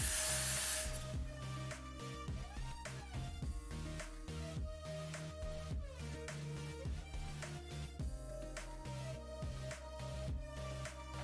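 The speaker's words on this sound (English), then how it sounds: "I'm gonna spray the Gots to Be." Got2b hair spray sprayed onto a wig during a flat wig install over locs, a brief hiss at the very start, then fading under music for the rest of the clip.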